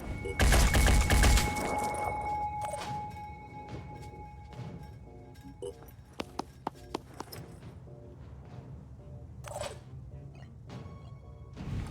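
Burst of weapon gunfire in the turn-based tactics game Phoenix Point: a loud, dense volley of shots at the start, then scattered sharp cracks and thuds over a low ambient game bed.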